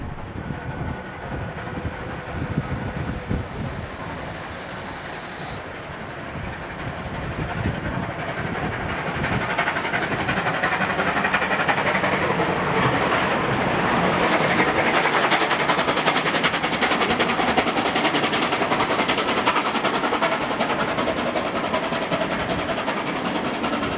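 Steam locomotive 3801 passing Arncliffe in New South Wales on a shuttle run to Hurstville, a long, loud, steady rumble and rhythmic chuffing that builds and holds throughout with no voices.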